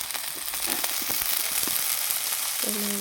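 Chopped mixed vegetables with tomato frying in a pan make a steady, close sizzle that runs throughout, with faint stirring clicks and a brief tonal clink near the end.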